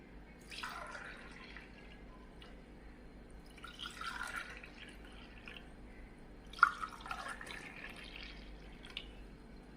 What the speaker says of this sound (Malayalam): ഇനി നമുക്ക് ഗ്ലാസ്സിലേക്ക് ഒഴിക്കാം.